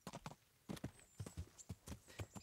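Horse hooves clip-clop at a steady walking rhythm in the medieval game Kingdom Come: Deliverance, a close series of soft, evenly spaced thuds with no talk over them.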